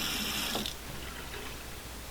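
A Moen bathroom faucet fitted with a 1224 cartridge is opened. A brief mechanical click from the handle gives way to a soft, quiet hiss of running water, with no talking.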